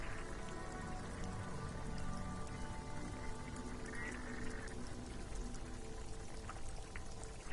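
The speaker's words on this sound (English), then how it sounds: "This rain will not let up anytime soon." Heavy rain pours steadily in a video game city, a dense continuous wash of drops on hard surfaces with no break from start to finish.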